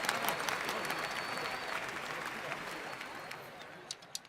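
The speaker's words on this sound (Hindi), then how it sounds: "जोरदार तालियों से उनका स्वागत करें।" At a temple event honoring a devotee's offering, a crowd applauds in a broad, fairly quiet wash of clapping that gradually tapers off, with a few isolated claps near the end.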